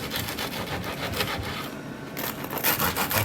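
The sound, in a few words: serrated knife slicing through a Marmite bread loaf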